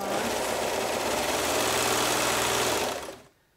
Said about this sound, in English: allowing my serger to trim off a 1/4 inch